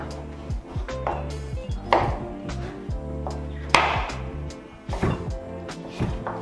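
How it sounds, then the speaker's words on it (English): A kitchen knife chops butternut squash on a cutting board in a steady series of sharp close knocks, roughly one to three per second, with a brief bright clack among them. "Now we're going to continue to chop this all up."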